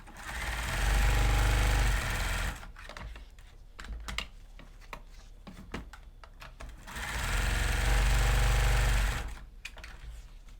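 Sewing machine stitching rows on a City Frock, running in two loud sustained bursts separated by a stretch of quieter handling clicks and rustles.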